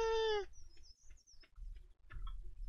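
Chickens in the Stardew Valley farming game give a loud drawn-out squawk followed by a few soft, scattered clucks over a low background hum.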